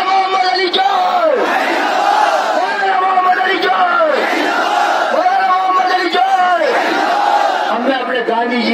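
A large crowd at an anti-CAA protest rally chants 'paindabad' slogans in unison, loud and close, with surging shouted phrases repeating about every two and a half seconds.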